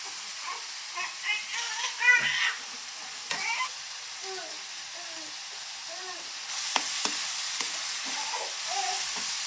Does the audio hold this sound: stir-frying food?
yes